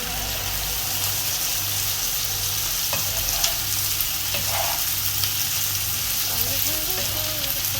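Sliced sausages fry in a pan with a bright, steady sizzle and crackle, heard up close over a low rhythmic hum, with a few faint clinks of stirring.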